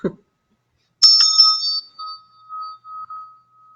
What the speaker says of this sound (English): I will even ring my little bell here from Kathmandu.